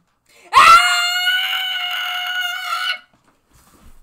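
One long, loud scream from the Danganronpa video game, starting sharply and holding steady for over two seconds before cutting off, with nothing else around it.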